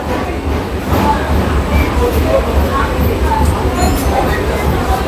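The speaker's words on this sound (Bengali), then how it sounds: "ট্রেন আমাদের ঢুকে গেল বিধাননগরে।" An AC local train on its inaugural Sealdah to Ranaghat run pulls into Bidhannagar station, heard from on board as a loud, steady low rumble of wheels and carriage, with voices talking throughout.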